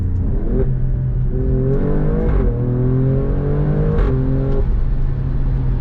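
A 510 bhp Alfa Romeo Stelvio Quadrifoglio engine revs loudly and close by, its deep growl climbing and dipping in pitch with a couple of sharp blips.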